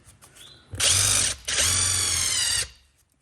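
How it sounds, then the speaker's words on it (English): A power drill driving a plug into a tire whirs loudly in two bursts separated by a short pause, the second burst longer, then winds down to quiet. "I got it on the drill. Let's see if I can make it go in there."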